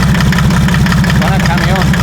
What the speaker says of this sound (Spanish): Vamos a arrancarlo.